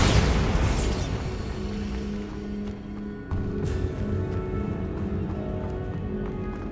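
A Bombarda spell blast in Hogwarts Legacy, a loud burst at the start that gives way to steady rumbling game noise and scattered thumps underneath, with no talking.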